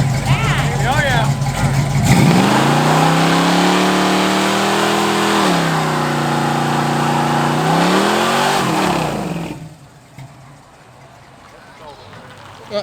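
A car does a burnout on junkyard tires after a car show. The engine revs hard and holds high, sweeping up and down through several pulls, with a hiss of broadband noise, then cuts off abruptly and leaves quiet surroundings.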